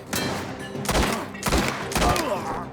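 Bursts of gunfire from the video game Mafia: The Old Country come in three or four heavy volleys about half a second apart, loud and booming with deep thuds and no speech.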